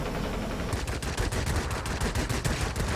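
A forward gunner in a flight combat video game fires its guns in rapid repeating bursts, loud and rhythmic, with no talking.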